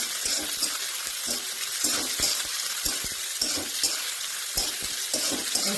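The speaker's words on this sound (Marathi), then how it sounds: "आपला कांदा आता भाजून झाला" Onion fries in a pan with foraged wild mushrooms nearby, a continuous dense sizzle broken by frequent sharp stirring knocks and scrapes, close and with no talking.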